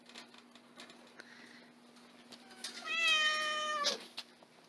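Cats at a rescue clinic give a drawn-out, rising meow up close near the end, after a quieter stretch of faint ticking and background noise.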